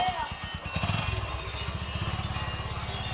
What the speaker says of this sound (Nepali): बाइक त मन्दिरसम्मै आइपुग्दो रहेछ